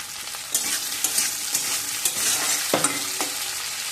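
Salted potato pieces frying in a pan, a continuous loud sizzle broken by regular clinks and scrapes of a spatula stirring, with no one speaking.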